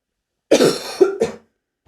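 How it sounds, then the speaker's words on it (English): A single close, hoarse cough breaks into three quick bursts, then silence. "I yelled a lot, so I had to cough."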